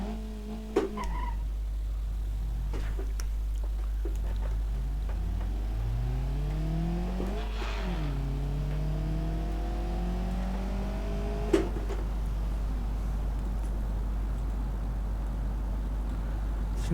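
A car engine in BeamNG.drive revs up through rising gears in the brake-failure downhill crash scenario, with a steady climbing drone, a dip and a renewed climb, and a sharp knock near the end.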